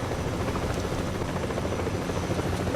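A helicopter in the video game Battlefield Play4Free flies with a loud, steady rotor and engine roar throughout, with no one speaking.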